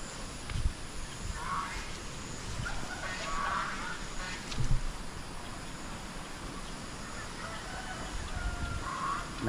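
Farmyard ducks and geese call out in alarm, fearing a predator, with scattered honks and quacks rising over a noisy outdoor background on a cold morning; the calls come in bursts rather than continuously.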